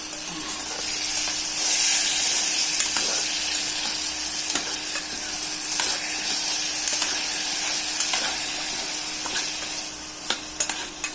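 Ginger and garlic paste sizzling as it fries in a pan, loud continuous hiss with stirring scrapes and a few sharp clicks toward the end, no talking.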